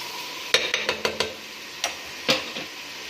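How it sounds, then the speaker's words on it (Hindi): Chopped onion frying in oil in a home kitchen pan, heard as a soft sizzling bed broken by several sharp clinks and scrapes of a stirring spoon against the pan, with no talking. "ये देखिए, हमारा प्याज जो है वो फ्राई हो रहा है।"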